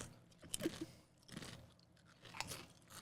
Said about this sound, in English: it gives it a nice thick crunch. It's definitely a sturdier crisp.